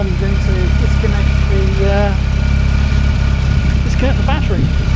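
A car engine idles steadily at a constant low rumble throughout, with someone talking over it; the engine runs with the battery connected, just before the battery is disconnected.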